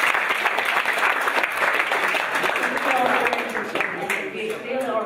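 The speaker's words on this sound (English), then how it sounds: "Big round of applause for everyone." A large audience applauds at an urban hackathon event, a dense, steady wash of clapping that stays loud throughout, with faint talk mixed underneath.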